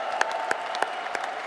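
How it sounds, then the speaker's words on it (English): A brief burst of audience applause at a diversity awards ceremony honours the Lifetime Achievers, with a few sharper claps standing out over a moderate crowd wash. "can you have a huge round of applause for every single Lifetime Achiever?"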